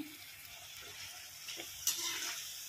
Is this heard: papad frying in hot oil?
yes